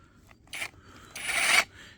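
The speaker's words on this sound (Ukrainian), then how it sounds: "Так, тепер приступаємо пилочкою." A small hand saw cuts into a wooden pallet in two quick rasping strokes, a short one then a longer, louder one, close to the microphone with quiet pauses between.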